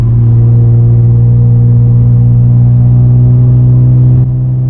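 Audi S4 fitted with an AWE Tuning Touring exhaust pulling in 6th gear at highway speed, heard from inside as a loud, steady low engine drone with a strong hum that dips slightly near the end, no talking.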